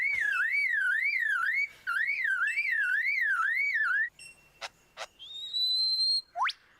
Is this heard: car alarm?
yes